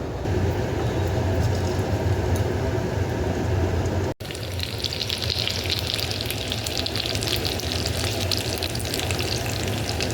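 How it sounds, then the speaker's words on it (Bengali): Boneless chicken fries in hot white oil in a wok, giving a loud, steady, crackling sizzle that drops out for a moment and then surges back. "তেলটা গরম হয়ে গেলে এবার এইরকম বোনলেস চিকেনগুলো একটু হালকা ফ্রাই করে নেব।"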